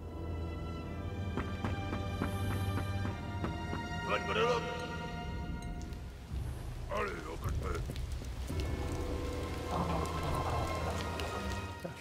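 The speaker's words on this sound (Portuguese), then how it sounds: "Tá chovendo pouco." Steady rain falls throughout a scene in the World War I game Valiant Hearts: The Great War, a constant hiss beneath game music and brief effects, with someone talking over it.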